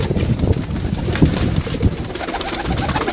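Pigeons kept in pairs at a bird seller's in Gujrat coo steadily, with soft repeated throaty calls close by, over a wind-buffeted outdoor background.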